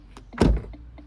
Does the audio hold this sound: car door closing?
yes